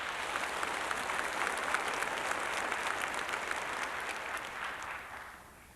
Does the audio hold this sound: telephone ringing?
no